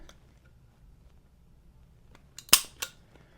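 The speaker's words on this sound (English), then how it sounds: "let's see if this trigger gauge I have can measure the double action on this gun" Double-action trigger pull on a Colt Python .357 Magnum revolver measured with a trigger gauge: a quiet lead-in, then one sharp metallic snap and a lighter click just after.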